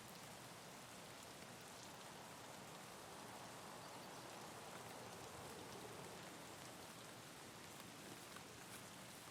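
Steady rain patters evenly without pause in Escape from Tarkov, a soft wash of drops with no voices or other sounds.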